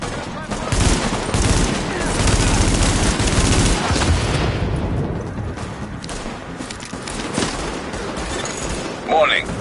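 Dense gunfire fills a fight in the video game The Division: sustained rapid automatic shots and bursts sit loud in the mix, with a voice talking over parts of it.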